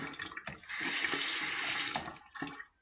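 Freshly installed bathroom tap being tested for leaks, water gushing into the basin in a steady, close, hissing stream for about a second and a half, framed by brief handling knocks and clunks.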